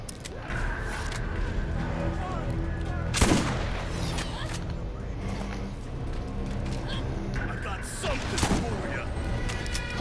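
Gunfire in the Borderlands shooter game, dense and continuous with sharp louder cracks around the three- and eight-second marks, mixed over steady game sounds and music.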